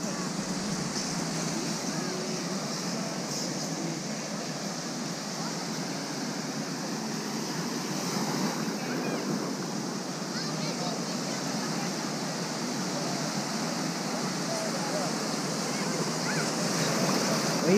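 Ocean surf on the beach at Panama City Beach, a continuous broad wash of waves with wind noise, steady and moderately loud for the full duration.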